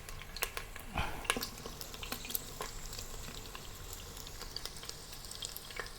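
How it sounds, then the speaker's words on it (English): Pork ribs sear in a multi-cooker used as a pan, giving a faint, steady sizzle with scattered small pops and crackles, close but quiet, no voices. "After searing the first side, now turn to the other side."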